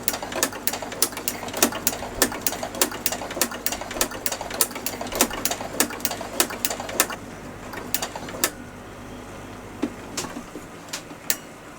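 A sewing machine stitching with a pleating foot, the motor humming steadily under sharp, regular mechanical clacks, each cluster of stitches broken by a pleat stroke, close and clear with no talking, the clacks thinning out near the end.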